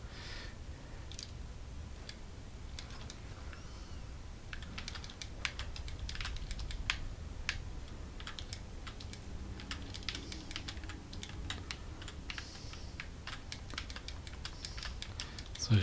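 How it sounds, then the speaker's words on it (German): Rapid, irregular clicking of a computer mouse while playing Skyrim on a PC, sharp close taps in quick bursts over a steady low background hum, with no talking. "So, ich klicke jetzt einfach mal wie wild hier rum"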